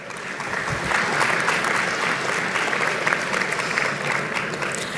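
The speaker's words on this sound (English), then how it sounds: "Big round of applause to them, please." Audience at a party convention breaking into a big round of applause, a dense sustained clatter of many hands clapping that swells after the first second and holds steady without talk.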